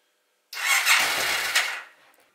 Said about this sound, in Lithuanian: pabandysim prasukti, pažiūrėsim ar sukasi variklis.